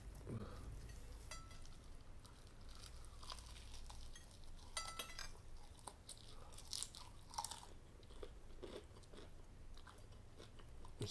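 Close, crunchy chewing of KFC fried chicken thigh with a biscuit at a meal, steady wet mastication and bites with a few louder crunches, continuous throughout with no talk over it.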